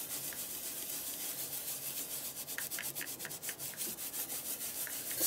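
A clean wet wipe is rubbed over a numeric stencil, giving soft, close scratchy swishes in quick repeated strokes that grow more rhythmic midway.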